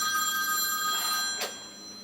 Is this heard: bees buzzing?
no